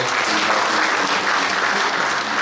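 A church congregation gathered for an inaugural thanksgiving service gives a sustained round of dense, loud applause, steady throughout with no talking over it.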